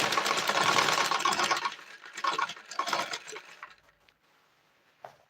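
A sewing machine runs in bursts while stitching a child's dress, a dense rapid whirring that stops and restarts a few times, then fades out, followed by a single small click.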